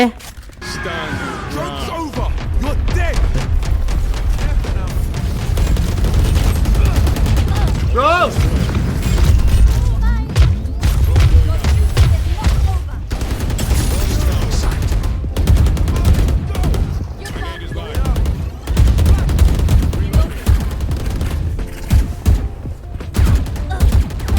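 Loud rapid gunfire in the video game Valorant rattles in repeated bursts and single shots across the whole stretch, with players talking over the shooting.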